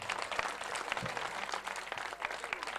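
Devotees at a bhajan program honouring Sai Omiram Saheb clap in a faint, distant patter of applause lasting a few seconds.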